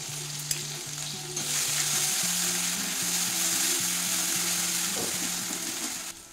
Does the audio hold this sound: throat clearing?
no